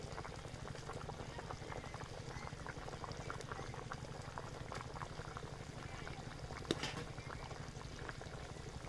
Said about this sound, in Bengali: ঝোলটা কিন্তু খুব ভালো করে ফুটতে শুরু করেছে